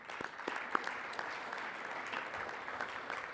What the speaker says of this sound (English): I want you to offer yourselves a round of applause